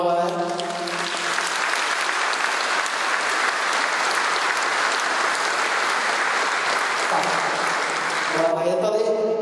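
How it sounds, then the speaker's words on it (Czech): Big round of audience applause at an award ceremony honoring a mayor, dense sustained clapping from a hall of people for about eight seconds, with someone speaking just before it begins and as it dies away. "poprosím samozřejmě i o tuhle chvilku a velký potlesk"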